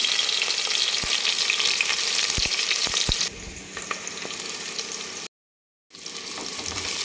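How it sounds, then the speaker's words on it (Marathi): Two large sliced onions dropped into hot oil, a loud steady close sizzle with several sharp ladle knocks, easing slightly midway and then cutting out briefly before resuming. "तेल छान गरम झाल्यानंतर आपण याच्यात कांदा टाकणार आहे"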